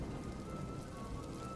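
Heavy rain pours steadily in a cartoon story, a dense, even hiss of drops on surfaces with no talk over it.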